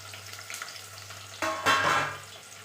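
Onions for chicken biryani dropped into a hot pan and frying, a quiet background hum giving way to a sudden burst of sizzling and stirring that fades gradually, no talking.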